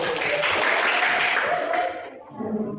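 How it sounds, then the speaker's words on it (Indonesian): Classroom applause from a group of students and teachers, a brief burst of scattered clapping that fades after about two seconds, with voices talking underneath. "Tepuk tangannya dong."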